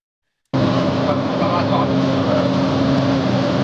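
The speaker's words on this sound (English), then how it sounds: "That's his car starting to hydroplane." A car's roar on a wet road begins abruptly and holds steady as a loud, continuous broadband rush of engine and tire spray, with no gaps.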